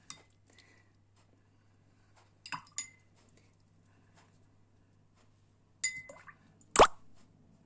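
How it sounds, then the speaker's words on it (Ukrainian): A paintbrush is rinsed in a water jar during a children's blot-painting lesson, giving a few sparse, quiet plops and small glassy clinks with long silent gaps between them. Nobody speaks. "після кожної фарби промиваю пензлик. Ще додам водички."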